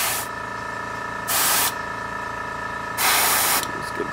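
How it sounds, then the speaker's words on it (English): Airbrush spraying paint onto a miniature's armor while its compressor cuts in and out, a steady hiss broken by two louder bursts of spray, close and alone with no talk. "you can hear my airbrush compressor cutting in and out"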